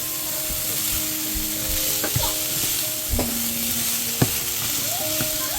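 A spoon stirs and mashes bean soup ingredients with a little oil in a pot on medium heat, giving a soft sizzle with intermittent scrapes and knocks close up.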